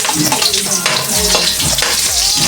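Loud, close sizzling as onions fry in a pan with cabbage, a dense hiss broken by stirring scrapes and a few low clunks, no voices.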